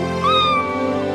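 A cartoon kitty from Bubble Guppies lets out a single clear, drawn-out meow with a rising then gently falling pitch, close and loud with no talking.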